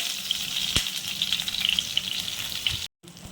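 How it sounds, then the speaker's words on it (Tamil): Eggplant slices fry slowly in a pan over a low flame, giving a steady, close hiss with soft crackles and a single tap, broken by a brief silent gap just before the end. "கொஞ்சம் மெதுவாக கொஞ்சம் ஸ்லோவாக அடுப்பை சிம்மில் வச்சுட்டு வேக விடணும் கத்திரிக்காயை"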